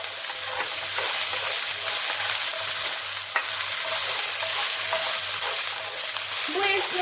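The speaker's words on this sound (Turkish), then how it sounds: "Zeytinyağımızın üzerine bir baş soğanımızı ilave edip pembeleşinceye kadar karıştırıyoruz." Onions sizzle and crackle steadily in hot olive oil, with occasional scraping as they are stirred in the pan.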